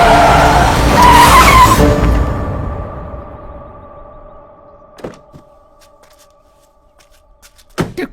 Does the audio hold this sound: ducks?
no